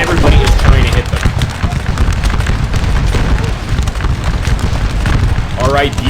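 Cannon fire and booming battle noise in the Napoleonic wargame Scourge of War Waterloo, a steady loud rumble of blasts and gunfire throughout, with a voice talking over it.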